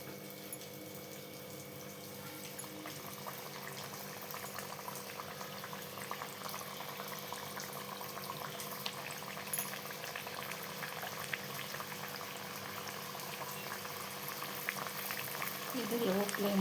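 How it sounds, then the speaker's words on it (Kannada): Wheat-flour garige dough frying in hot oil over a medium flame, a steady close bubbling sizzle that holds evenly throughout with a faint voice in the background. "ಫ್ರೈ ಮಾಡೋಣ"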